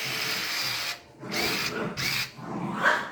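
An electric screwdriver drives screws into a Redcat Kaiju RC truck during a shock oil change, making several short, loud whirring bursts separated by brief pauses.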